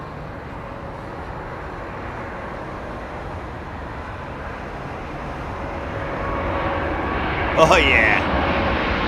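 A jet aircraft passes near Heathrow Airport as a broad, steady engine roar that swells toward the end, with brief speech and a whistle over it.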